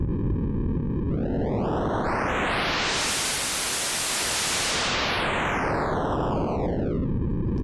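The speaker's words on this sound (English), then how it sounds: "Sounds like an explosion on an old NES game." Synthesized white noise from the Massive synth has its color knob swept, giving a loud, steady hiss whose tone glides smoothly brighter toward pure broadband rush and then back down, like a retro 8-bit game explosion.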